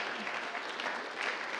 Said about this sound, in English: And Karen Roach from Wycliffe, round of applause as well.